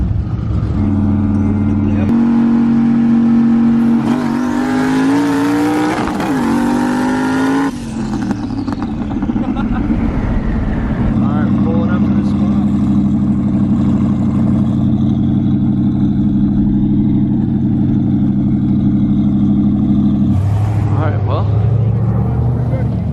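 A fast Mustang drag car with a Coyote engine and a Turbo 400 Powerglide transmission revs loudly and steadily at close range. Its pitch climbs, then it settles into a sustained high idle while people talk over it.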